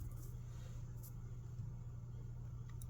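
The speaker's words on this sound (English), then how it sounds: "sorry for all that car noise in the background" Steady low rumble of car and truck traffic from deliveries next door, a faint, continuous background drone with no distinct passing vehicles and no talk.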